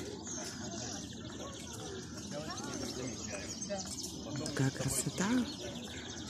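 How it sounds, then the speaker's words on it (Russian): Birds sing at dawn at the Brest Fortress during a June 22 memorial gathering. Their chirps are moderate in level and run steadily beneath a crowd's murmur and nearby people talking. "Светает, птички поют."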